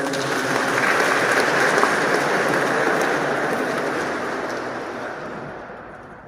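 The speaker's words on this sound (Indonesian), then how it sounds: "Kita beri aplaus" A wedding ceremony audience applauds the groom with steady, full clapping that fills the room for several seconds before slowly tapering off, with no speech over it.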